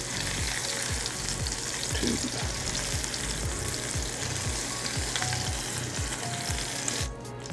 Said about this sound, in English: we've been browning our meatballs in our black cast iron skillet